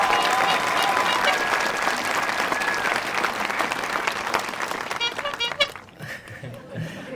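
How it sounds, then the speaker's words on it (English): A school audience claps and cheers for state championship golfers during an end-of-year reflection night, dense sustained applause that thins out toward the end as a few voices call out. "They deserve your big round of applause because that was a huge accomplishment."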